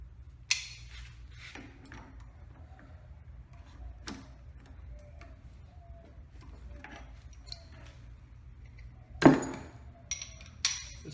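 A wrench torques the barrel nut during a Mil-Spec barrel install on an M4 CQBR 10.3-inch rifle, with sparse metallic ticks and clinks and a few sharper knocks over a quiet background.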